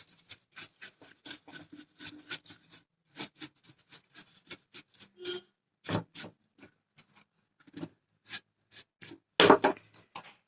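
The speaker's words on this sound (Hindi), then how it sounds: "अभी हम इसको क्लीन कर लेंगे प्रॉपर्ली। एक ब्रश ले लीजिए नॉर्मल, जो जैसे पेंट वाले ब्रश होते हैं ठीक वैसे ही।" Ordinary paint brush sweeping dust out of an opened laptop, a series of short dry bristle swishes and scratchy strokes in an irregular rhythm, close and fairly quiet, without talking.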